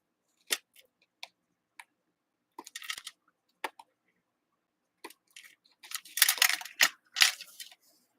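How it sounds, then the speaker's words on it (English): Scissors snip through paper in a quiet crafting session, a series of short, close, crisp cuts spaced irregularly, with a denser cluster of snipping toward the end. "And then we can just take our scissors and trim it off."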